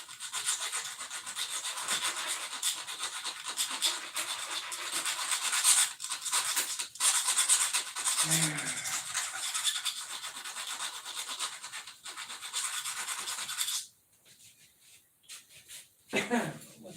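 Sandpaper rubs and scratches in steady strokes while jewelry is worked at close range, then stops near the end as brief fainter rubbing and a voice follow.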